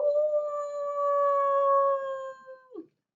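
A human voice imitates a wolf howl for children, giving one long, steady, clear howl that slides down and breaks off at the end, with no other sound.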